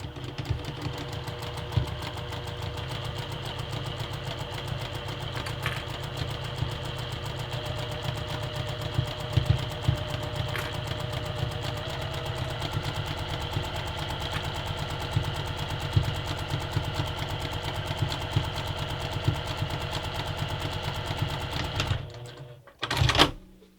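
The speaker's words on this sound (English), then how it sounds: "it's really important to sew with the fabric against the bed of your sewing machine" A sewing machine stitches mesh fabric with a fast, steady mechanical whir and rhythmic needle chatter, running close and continuously before stopping abruptly near the end.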